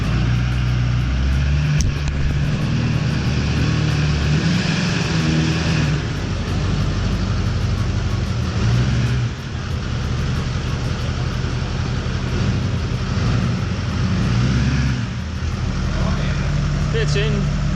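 A turbocharged old Rabbit diesel engine with a big turbo runs with a steady low rumble and whine of the spinning turbo, close and continuous, with people talking over it.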